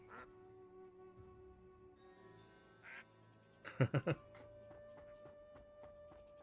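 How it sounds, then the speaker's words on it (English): Duck quacking in the video game Wandering Sword, a quick burst of three or four loud, close quacks over steady game music, with a few softer calls around it. "Making duck noises at me?"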